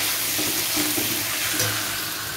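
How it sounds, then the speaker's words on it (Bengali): Vegetables frying in plenty of oil with panch phoron, dried red chilli and bay leaf, a dense, close sizzle with faint stirring bumps underneath, steady and loud for the whole moment. "পাঁচ ফোড়ন শুকনো লঙ্কা তেজপাতা ফোড়ন দিয়েছি, আর করে সবজি ফোড়ন দিয়ে বসালাম"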